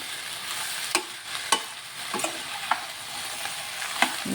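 Okra frying and being stirred in a pan in a home kitchen: a steady soft sizzle runs throughout, punctuated by several sharp scrapes and clacks of the spatula against the pan, with no talking.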